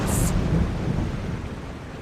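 Thunder from a chaos storm in The Longest Journey video game rumbles low and steady throughout, a continuous stormy roar with a brief hiss at the start.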